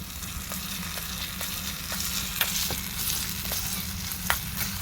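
Ginger garlic paste is stirred into a miniature chicken curry, the oil sizzling steadily and close with small scraping clicks of the spoon scattered through, no voices over it.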